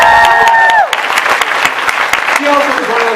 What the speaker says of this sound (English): Give Morgan a round of applause.